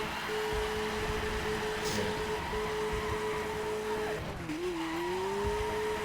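A Mazda MX-5 Miata in a racing video game, its engine holding a steady pitch, then dipping and climbing again as the tires squeal and skid through a corner, loud and close with no talk.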